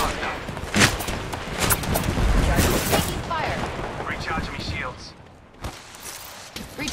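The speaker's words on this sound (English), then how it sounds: "Being shot at. Under fire." Gunfire in a shooter video game with the player under fire: rapid bursts of shots and impacts crowd the first half, then thin out to a few isolated cracks, with a voice talking over them.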